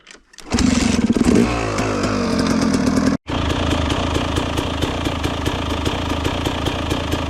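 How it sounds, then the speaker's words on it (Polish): A KTM SX 250 motorcycle engine kicks into life and then revs loudly and close by in a rough, pulsing idle, with a brief cutout before it runs on steadily. "No dobra, podkręciłem mu troszkę obroty."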